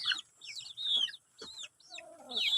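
Several short, chirpy chicken clucks come in uneven bursts, fairly close and clear, with quiet gaps between the calls.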